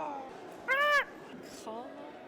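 A person's voice mimics a raptor call at a college basketball game, giving a harsh, tonal screech followed by a shorter, softer second cry, faint and close.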